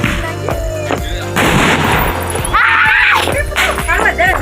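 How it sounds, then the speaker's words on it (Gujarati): Diwali firecrackers burst in quick sharp cracks in a village celebration, some crackling and fizzing, with a whistling rocket-like streak midway, while people talk nearby throughout. "બધો ફટાકડા ફોડું છું."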